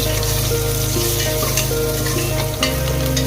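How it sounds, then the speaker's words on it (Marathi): Garlic fries in hot oil in a home kitchen, giving a loud, continuous close-up sizzle and crackle throughout with no talking. "मी याच्यामध्ये लसूण पण टाकते आणि तेल तापलं"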